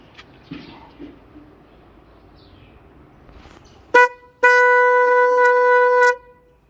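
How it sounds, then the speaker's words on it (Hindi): A motorcycle horn powered by a 12-volt lithium battery gives a brief blip, then a steady, loud blast held for about two seconds, clear and close after a quiet stretch of faint background noise. "मैं हॉर्न आपको इसके साथ चेक कराता हूँ"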